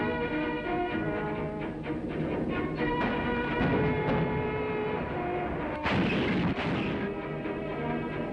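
Allied artillery fire during the WWII battle for Monte Cassino in Italy, a dense continuous barrage of booms and reports over a steady rumble, with a heavier burst near the end; a musical score also plays underneath.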